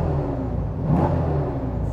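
A Subaru BRZ fitted with an LS3 V8 runs nearby with a steady low rumble and a slight swell in the middle, the engine idling or revving gently and no talk over it.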